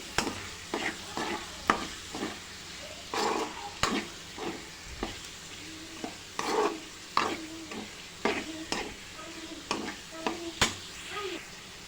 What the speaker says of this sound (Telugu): ఇందులోకి అల్లం వెల్లుల్లి పేస్ట్ వేసేసుకొని దాన్ని కూడా మనం మంచిగా ఫ్రై చేసుకోవాలి